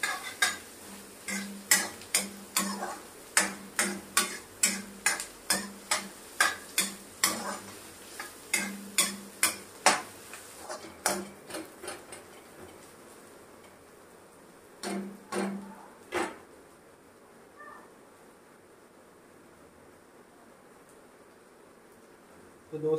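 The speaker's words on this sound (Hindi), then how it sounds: "प्याज को थोड़ा हल्का ब्राउन होने तक भून लेंगे" Onions fry until light brown in a pan for dry masala Maggi, a quiet sizzle under a run of sharp rhythmic scraping and clinking strokes of a spoon against the pan, pausing and then returning briefly before fading to near silence.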